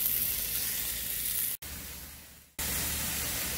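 Vegetables sizzling on a hot Blackstone griddle, a loud, steady hiss close by that cuts out abruptly for about a second, drops to a softer hiss, then returns at full strength, with no talk.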